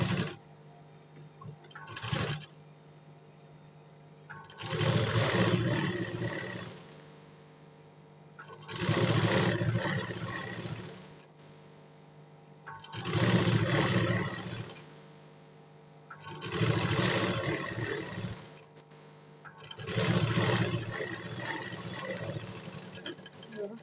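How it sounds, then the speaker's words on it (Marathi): Sewing machine stitching along the waist side of blouse fabric, running in five bursts of a few seconds each with quiet pauses between, close by, with faint background noise. "आता मी त्याला मेन फॅब्रिक आहे कपड्यावरती ठेवून पहिली कमरेच्या साईडून शिलाई मारणार आहे."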